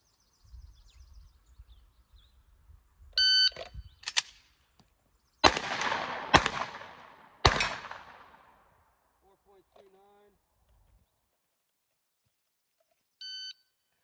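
Outdoors, a shot timer beeps once, then a 1911 pistol fires four sharp, loud shots spaced about a second apart, and a second beep follows later. A brief voice is heard between the sounds.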